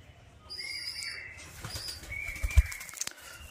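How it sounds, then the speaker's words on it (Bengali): A pigeon flies in to a new loft, its wings flapping in a short close burst of flutters, and a faint chirp or two comes through the quiet. "পায়রা দেখো চলে এসেছিল, ফোনের উপর চলে এসেছিল উড়ে"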